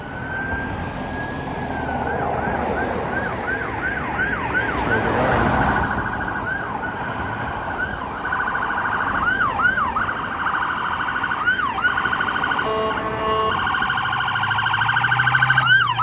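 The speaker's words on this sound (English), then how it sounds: "here comes a ambulance maybe." An ambulance siren wails repeatedly with rising-and-falling tones as it travels down a city avenue in Regina, Saskatchewan, in early March. It sounds fairly close over a steady bed of street traffic noise, with no talking.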